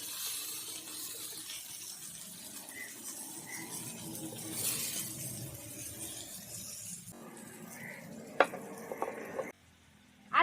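Bangda mackerel fry in a pan with a soft, steady crackling sizzle, quiet and close, broken near the end by a few clinks and a brief pause with no talk.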